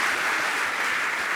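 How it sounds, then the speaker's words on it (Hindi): Audience clapping at a Jain religious discourse gathering, a steady dense patter of many hands at moderate volume, continuous and unbroken with no voices over it. "आपकी तालियां बहुत कम बजती, अच्छे से बजाइए।"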